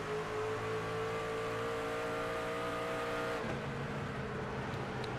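A race truck on a short oval track roaring past at speed, a loud sustained engine whine that holds steady then drops sharply in pitch as it passes, with a lower rumble continuing afterward.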